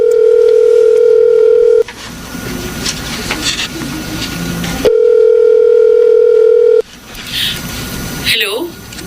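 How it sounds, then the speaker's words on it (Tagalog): A cellphone dial tone sounds as a call is placed: two long, loud steady tones separated by a gap, with a voice speaking in between and faint clicks after the second tone. "Tatawagan ko siya gamit yung cellphone ko."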